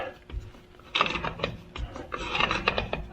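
Metal oil filter wrench gripping and twisting a tight oil filter canister, giving scraping, rasping and ratcheting creaks in a few effortful bursts, close and fairly loud, with no talking.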